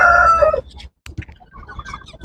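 A silkie hen clucks and calls loudly up close on a rooftop, then quieter scattered clucks and chirps follow after a brief pause.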